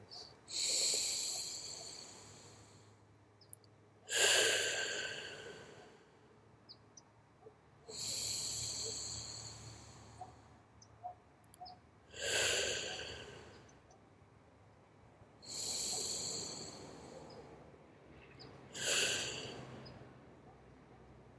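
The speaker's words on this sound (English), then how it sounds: "3 breaths in through the nose." Six deep, slow breaths drawn in through the nose during a guided closing meditation, each a soft, airy rush lasting a couple of seconds, spaced evenly with quiet pauses between, close and fairly loud, with no talking.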